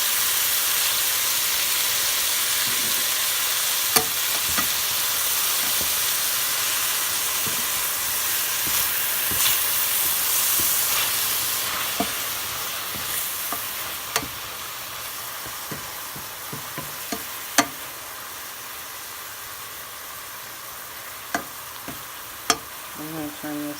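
Garlic toasting in a pan gives a steady, close, hissing sizzle throughout, dotted with small pops and the occasional clink of a utensil.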